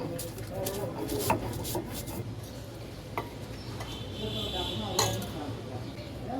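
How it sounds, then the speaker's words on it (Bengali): Red chillies ground by hand on a stone slab (pata), a steady close rubbing and rasping with occasional clinks as the stone shifts. "লাল মরিচগুলো আগে বেটে নিব।"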